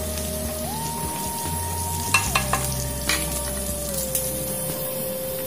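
Green chilli and ginger sizzle in hot oil while being stirred, giving a steady frying hiss with a few scraping clicks and a constant background hum.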